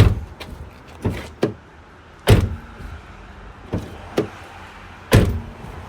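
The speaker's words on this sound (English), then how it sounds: "So I'm gonna slam the door a couple times, not too hard." Door of a BMW E92 coupe being shut repeatedly after an alignment adjustment, several sharp thuds and latch clicks at irregular intervals, close and fairly loud with quiet pauses between them.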